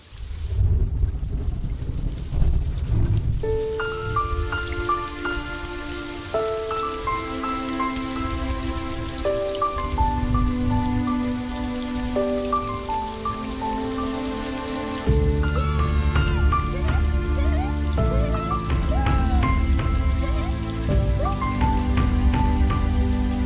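Rain falls steadily on a surface in a soft continuous patter, with musical tones playing over it throughout and no voices.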